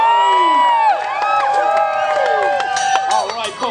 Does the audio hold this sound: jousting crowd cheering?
yes